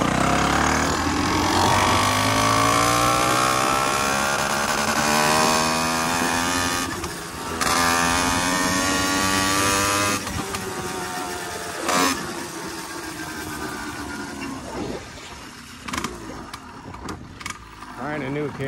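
A motorized bicycle engine, an Athena bike, warms up and then rides off, its loud two-stroke buzz droning steadily with rising and falling revs and a short break midway, with wind and bumps under it.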